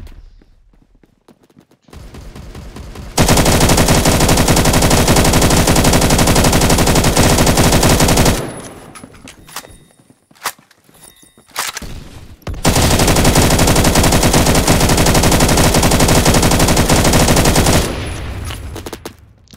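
Sustained bursts of automatic machine gun fire in the Roblox shooter Phantom Forces, two long loud stretches of rapid shots separated by a quieter gap, with no talking.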